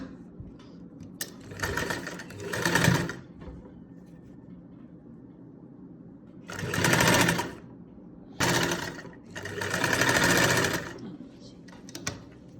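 A sewing machine stitching the back neckline of a garment runs in several bursts of fast, even whirring, from one to a few seconds each, with quiet pauses between them.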